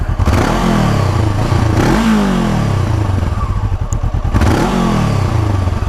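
A 2016 Honda CBR 500R twin-cylinder motorcycle engine running loud and close, with a steady throbbing idle broken by several quick revs that rise and fall.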